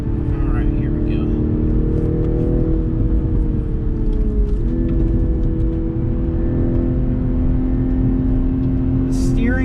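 A 2021 Toyota GR Supra driven hard on twisty roads, its engine holding a loud, steady droning roar from inside the cabin, with a brief dip in pitch mid-run as the throttle shifts.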